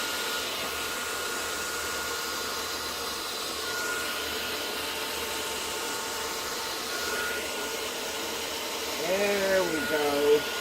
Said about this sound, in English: here comes the hair dryer